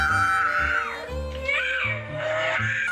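A toddler boy shrieks at home, a sustained, high-pitched wailing cry that wavers and rises in pitch over a few seconds, loud and close.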